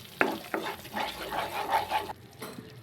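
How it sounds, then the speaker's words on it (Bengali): Powdered spice masala of turmeric, chilli and coriander with salt frying in oil for veg biryani, a soft sizzle with a few sharp spoon knocks and stirring scrapes that drop away near the end. "এবার আমি মশলাটাকে ভালো করে কষিয়ে নেব"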